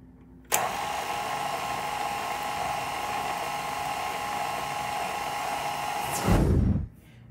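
An electric hand mixer beats an egg yolk batter in a bowl, switching on with a sharp start and holding a steady high whir for about six seconds, swelling briefly louder before cutting off.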